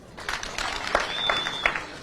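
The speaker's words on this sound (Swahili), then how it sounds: "Makofi kwa watu." A small crowd at a public address in Kakamega County claps briefly, a light scattered patter of applause at moderate distance with a faint voice mixed in.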